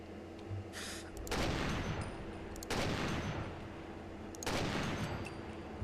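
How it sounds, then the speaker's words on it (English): Powerful .50 cal rifle shots in the Fallout 4 video game, with three booming blasts spaced about a second and a half apart, each followed by a long rumbling decay. "It took 3 fucking 50 cal shots to take it down."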